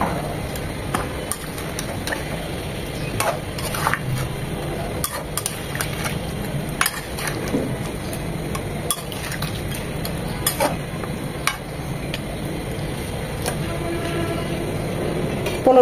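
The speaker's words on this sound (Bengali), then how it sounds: "এখন সবকিছু ভালোভাবে মিশিয়ে নেব।" Kashmiri chicken masala with yogurt, sugar and garam masala is stirred in a pan, giving a steady run of close scraping and light clinking spoon taps over a soft simmering background.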